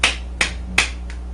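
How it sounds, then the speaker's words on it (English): Three sharp hand claps spaced evenly, each a crisp close transient with a short decay, followed by a fainter fourth; no one speaks. "just clap"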